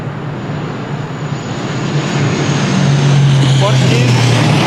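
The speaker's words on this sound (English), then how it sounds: "A320neo on the short final from London. It's the next one to land." Airbus A320neo on short final into Lisbon Airport on a windy day, a loud steady jet roar swelling as it nears, with a low engine drone and broadband rush filling the whole clip.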